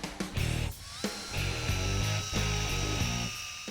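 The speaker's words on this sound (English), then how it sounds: "we like this simple stripe-off wheel, which kind of acts like a big giant pencil eraser" A power-driven stripe-off eraser wheel whirs steadily against a Trans Am's body, rolling off decals, its tone rising and dipping with brief interruptions as it grinds along.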